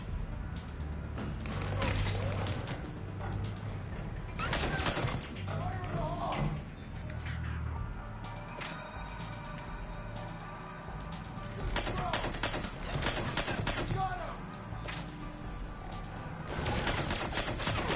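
Bursts of gunfire from a PS4 video game, several loud volleys and rapid repeated shots spread across the stretch, with in-game voices speaking between and over the shooting.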